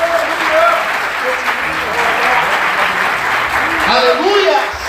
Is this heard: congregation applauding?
yes